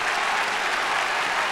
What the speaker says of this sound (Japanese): 今この拍手はカンドリに送られていると言っていいですね